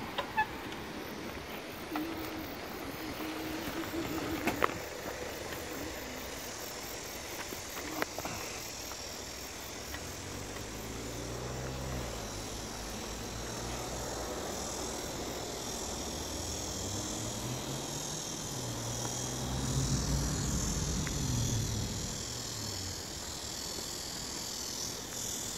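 Cars roll past on a street during an autumn evening walk, with low engine and tire rumbles swelling and fading, the loudest passes near the middle and toward the end, over a constant high chirring of crickets and cicadas.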